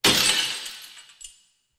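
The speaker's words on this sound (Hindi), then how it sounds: "ये कांच तोड़ने की आवाजें," A sudden loud crash of breaking glass, with shards tinkling and scattering as it fades, followed by a small final clink.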